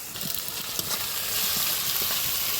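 Chopped tomato drops into a spice paste of garlic and onion frying in oil, giving a steady close sizzle with a few soft stirring knocks, and no voices.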